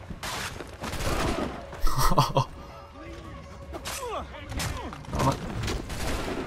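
Gunfire rattles in Assassin's Creed 3 as scattered shots and bursts crack out amid a chaotic battle, with a player gasping and talking over the action.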